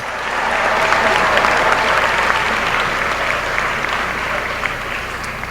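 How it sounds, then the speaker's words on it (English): Applause from a graduation ceremony crowd at Russell County High School swells into a loud, dense, continuous clapping that holds steady across the hall and eases slightly at the end. "Come on and give that a hand clap."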